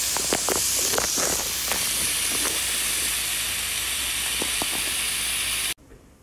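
Bacon frying in a pan until crisp: loud, continuous sizzling hiss with scattered pops and crackles, cutting off abruptly near the end.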